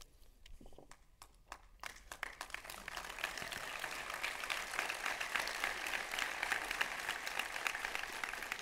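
Applause rises from an audience at a security conference talk on drone hacking, starting sparse and faint, then swelling into steady, dense clapping that carries on to the end.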